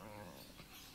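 A dog whimpers softly in its sleep in short, faint whines, low and close, with a quiet background.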